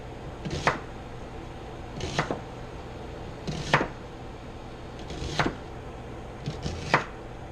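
A knife chops a flat-sided onion on a board in single sharp strikes about every one and a half seconds, close and clear over faint background hum.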